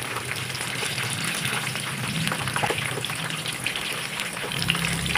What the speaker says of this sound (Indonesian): bijinya itu bisa mengembang ya kalau kita goreng seperti ini ya